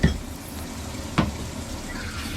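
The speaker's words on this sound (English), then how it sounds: "rinsing the other pots all in water" 9barista espresso machine parts, including brass pieces, being rinsed in water: a steady soft hissing wash of water with a single brief clink midway.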